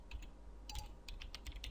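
Keys clack on a computer keyboard in a quick, irregular run of light taps, faint and close in an otherwise quiet room.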